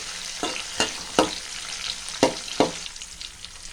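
Onion with ginger garlic paste sautéing in a pan, a low sizzle broken by several sharp scrapes of a spoon against the pan at uneven intervals, close and fairly loud, no voices.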